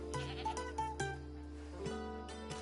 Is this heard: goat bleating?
yes